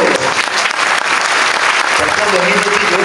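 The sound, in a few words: applause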